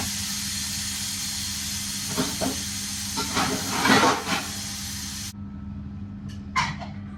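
Steam hisses steadily and loudly from a pressure cooker of mangodi rice, then cuts off abruptly, leaving a few faint clinks.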